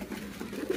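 Pigeons feeding together give a soft, steady low cooing that rises slightly toward the end, fairly close and continuous.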